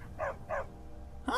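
A dog in the video game Skyrim gives two short, soft barks in quick succession, then a third yip right at the end, over a low ambient background.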